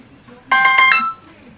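A mobile phone rings during a budget meeting, a short burst of bright tonal chirps lasting about half a second, loud and close against a quiet room.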